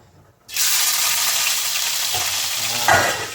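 Hot oil for a tempering sizzles loudly in a pan on a gas stove, a sudden hiss that bursts in and holds steady, with a couple of brief crackling flare-ups.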